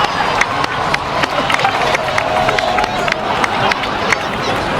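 A large crowd cheers and claps steadily in Genshin Impact, a dense, continuous wash of applause with occasional sharper claps standing out.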